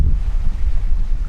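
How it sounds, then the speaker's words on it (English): Strong wind buffets the microphone in low rumbling gusts on a Baja Mexico seashore, with surf faintly beneath, loud and continuous. "It's a little bit windy."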